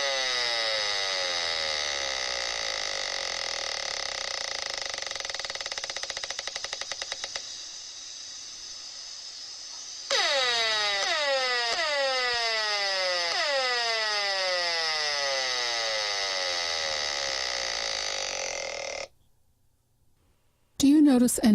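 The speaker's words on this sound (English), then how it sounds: "If we could hear this radiation, this is what it would sound like." A simulated sound meant to represent smart meter radiation: a loud, harsh, buzzing electronic tone, continuous at first, then a run of repeated downward-sweeping pulses, ending in a sudden cutoff and brief silence.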